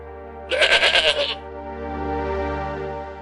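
A young goat gives one wavering, vibrato-rich bleat lasting under a second, close and clear over a soft sustained musical drone that continues afterward.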